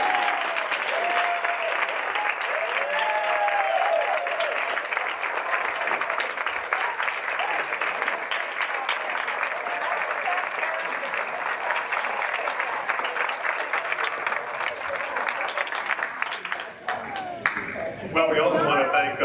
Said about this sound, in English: We need to clap for you.